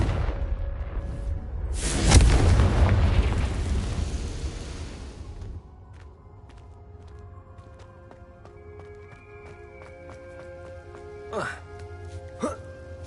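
A Confringo blasting spell explodes in Hogwarts Legacy with a loud, roaring boom that swells and slowly dies away, followed by quieter clicks and two brief whooshes; a voice speaks over it.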